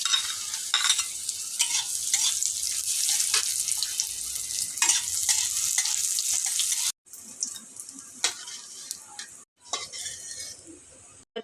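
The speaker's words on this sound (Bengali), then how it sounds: "ফ্রাইড রাইসের জন্য এখানে আমি কাজু আর কিশমিশ ভেজে নেব" Cashews and raisins frying in ghee, a steady close sizzle with stirring scrapes against the pan, briefly interrupted before the frying continues.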